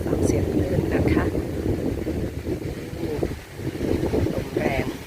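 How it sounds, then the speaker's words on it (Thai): Strong wind gusting over surf as waves crash onto the shore at Laem Charoen Beach in Rayong, Thailand; a steady, loud roar of wind buffeting and breaking water that swells and dips without pause. "ลมแรงค่ะ ดูคลื่นนะคะ ดูคลื่นซัดเข้ามาที่ชายฝั่ง"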